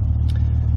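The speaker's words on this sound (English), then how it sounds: "This car's ticking over, it's around, probably a little low actually, probably around 600, 650 RPM" A Triumph TR6 engine ticks over at a low idle, a steady close rumbling throb with a faint mechanical clatter, brief and unbroken.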